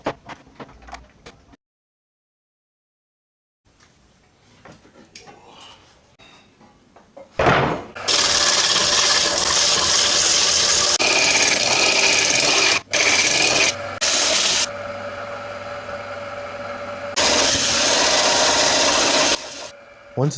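Quiet shuffling at first, then loud, continuous abrasive rasping of sanding on wood, broken by a few brief pauses.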